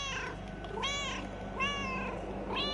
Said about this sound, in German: ich kann auf Knopfdruck miauen